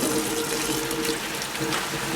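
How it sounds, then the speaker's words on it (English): Tap water runs steadily into a sink while lettuce is washed, a continuous hissing splash at moderate level with no breaks. "you have to wash your lettuce, okay, and make sure there's no dirt in it"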